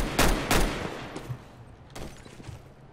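A few sharp video game gunshots crack close and loud in a burst of two early on, then scattered fainter shots follow with no talking.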